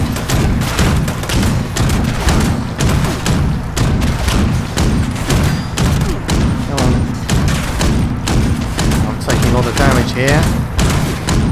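Dense, continuous gunfire and blasts in Fallout 76, a grenade fight against a Colonel Gutsy robot, loud and rapid throughout with repeated sharp shots over a rumbling bed, a voice briefly speaking amid the combat.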